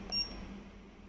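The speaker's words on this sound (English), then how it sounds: "Press arrow down key." One short, fairly faint electronic beep from an AX1 LCD keypad as a key is pressed, heard alone over a quiet room hum.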